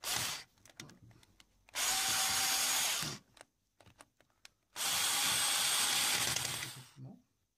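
A Ferm cordless electric screwdriver whirs in two loud sustained bursts while unscrewing, separated by quieter clicks and handling noise.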